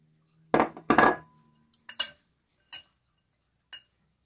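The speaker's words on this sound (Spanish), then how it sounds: "Vamos a mezclar" A spoon mixes creamy cabbage salad with onion in a bowl: two louder scraping strokes, then a few sparse, faint clinks of the utensil against the bowl in a quiet kitchen, with no talking.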